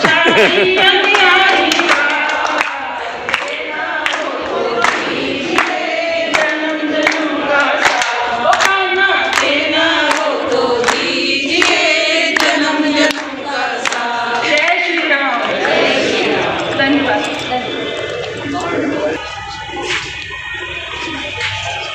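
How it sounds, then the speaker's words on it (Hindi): An audience claps at an RSS family gathering held for Ram Navami at a Shishu Mandir school, many sharp irregular claps repeating for a long stretch, loud and close, with music and voices running underneath. "ताली बजाओ"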